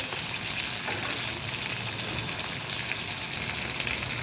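Steady crackling sizzle of tomatoes frying in a hot pan, continuous and close, with no talking.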